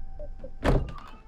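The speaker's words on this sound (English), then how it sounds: "Can you close the closet door?" A closet door closes with one dull thunk in a tense, quiet scene from the Halloween 2018 trailer, set against a low ambient hum.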